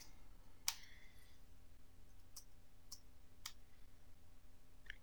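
Computer mouse clicks in a quiet room, four or five short, faint, sharp clicks spaced about a second apart over a low steady hum.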